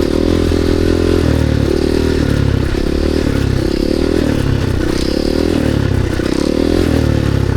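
A supermoto dirt bike engine revs hard and loud through a wheelie, its pitch climbing and dipping in repeated pulls with some mechanical clatter, close and continuous.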